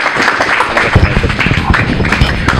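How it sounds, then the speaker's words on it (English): Audience at a candidate forum for Illinois 40th House Representative and 33rd Ward Committeeman applauds both candidates, a dense, loud round of clapping with a few emphatic claps and some murmuring voices underneath. "We have a round of applause for both our candidates."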